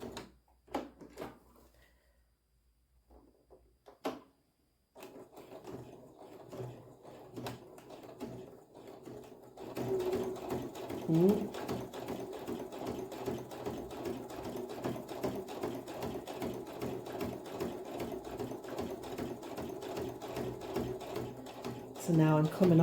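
A sewing machine stitches a fabric bookmark, running in a steady, close mechanical whir that starts after a few quiet seconds and continues without a break. Spoken instruction sits over part of it.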